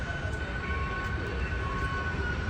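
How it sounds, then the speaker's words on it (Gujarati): A metro train on an elevated line in Bangalore city rumbles past with a steady, broad roar and a faint tonal whine, moderately loud and without talking. "અને આ છે મેટ્રો ટ્રેનનો રસ્તો."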